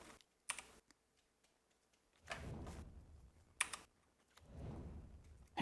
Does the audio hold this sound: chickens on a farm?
no